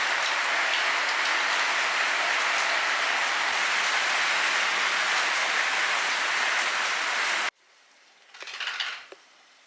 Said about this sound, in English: It has been raining non-stop all day.